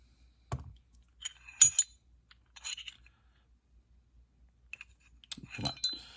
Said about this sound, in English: field stripping means the guide rod and guide rod spring come out